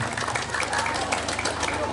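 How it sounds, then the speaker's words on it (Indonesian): A crowd at a sermon in a mosque claps briefly, a dense burst of applause with voices talking over it. "tepuk tangan"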